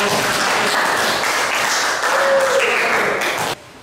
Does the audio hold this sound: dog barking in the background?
no